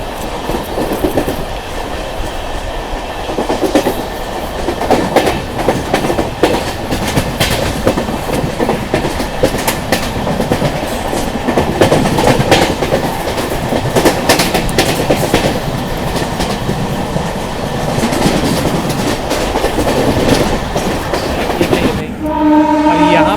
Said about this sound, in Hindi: और यहाँ पे अभी हम लोग ओवरटेक कर रहे हैं झारसुगुड़ा गोंदिया मेमू को।